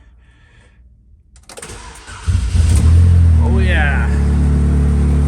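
A NASCAR Pure Stock race car engine cranks briefly, catches and settles into a loud, steady rumbling idle, with a short spoken remark as it fires up.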